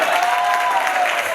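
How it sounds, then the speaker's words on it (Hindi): A short burst of hearty audience clapping at a training event, many hands applauding together in a dense, even wash, with a voice briefly audible over it. "पवार जी जोरदार तालियां"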